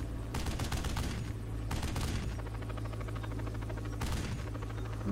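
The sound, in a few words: gunfire and bullet impacts in a video game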